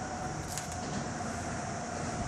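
An MRT train runs along an elevated track overhead above a reservoir fishing spot, giving a steady, loud rushing rumble that fills the whole stretch with no break.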